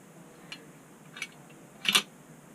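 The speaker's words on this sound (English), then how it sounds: "what I'm doing is I'm undoing these binder clips right here" Binder clips are unfastened on a guinea pig cage, making three faint, sharp clicks over a quiet background, with the last snap the loudest.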